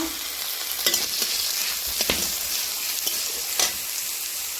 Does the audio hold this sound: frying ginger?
yes